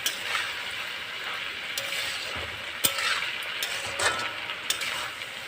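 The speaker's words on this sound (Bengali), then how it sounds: "ভালো করে ভেজে নেব, ভাজা হয়ে আসবে" Okra and onion fry in hot oil with a steady broadband sizzle, and a few sharp clicks and scrapes of a utensil stirring the pan stand out over the hiss.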